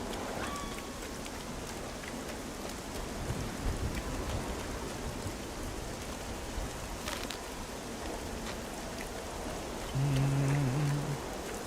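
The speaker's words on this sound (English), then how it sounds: "I always find rain to be very relaxing to listen to." Rain weather effect in The Gothic Remake video game: a continuous, even rain hiss with faint scattered drops and a soft low rumble, steady throughout and without talking.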